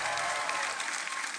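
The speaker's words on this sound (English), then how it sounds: "So everyone give her a huge round of applause." An audience at an acoustic concert gives a round of applause for a string arranger, a dense, even burst of clapping filling the room without a break.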